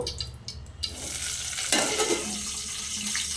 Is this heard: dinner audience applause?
no